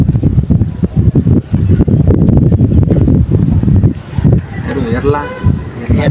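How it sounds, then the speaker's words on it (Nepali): Cool wind blows at a view tower lookout, buffeting the microphone in loud, uneven gusts close by, while people talk through it. "शीतल हावा आउँदो रहेछ"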